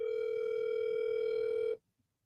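Telephone ringing tone heard during a call: one steady, moderately loud electronic tone sounds for nearly two seconds, then cuts off abruptly into silence.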